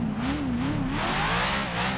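Car driving hard in GTA 5, a close engine drone with a wavering pitch and tire squeal smeared over it, continuous and loud throughout.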